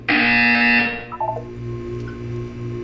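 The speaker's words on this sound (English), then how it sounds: "You will hear a buzzer." Buzzer in the Portal 2 video game test chamber: one loud, harsh electronic tone lasting under a second, followed by short beeps and a faint hum.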